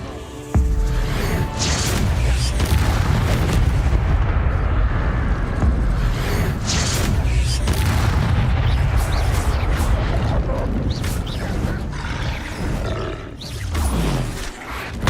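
Confringo fire spell blasts in Hogwarts Legacy, with loud, continuous roaring explosive rumbles and booms that fill the whole stretch, dense and close, with brief sharper impacts layered through the noise.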